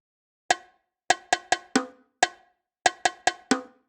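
Electronic bongo-like hits ring out in a repeating pattern, nine sharp pitched taps in two short phrases, clean and dry.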